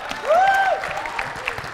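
Brief clapping from a small group runs beneath a loud whistling tone that rises and falls, with some voices mixed in.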